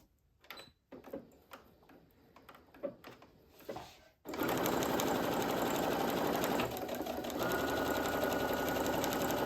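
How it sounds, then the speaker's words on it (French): A sewing machine topstitches fabric for a patchwork pouch made from scraps: a few light handling clicks first, then a loud, continuous whirring run close by for the rest of the clip. "je refais ma petite surpiqûre."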